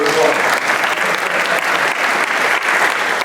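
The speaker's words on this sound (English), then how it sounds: "Can we give Pastor Jim Wood a round of applause?" Steady, loud applause from a forum audience fills the whole stretch, a dense, even clatter of many hands clapping without a pause.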